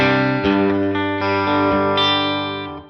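A distorted electric guitar through a Line 6 Helix reverb effect rings out in sustained chords, with a washy reverb tail that lingers and fades at the end.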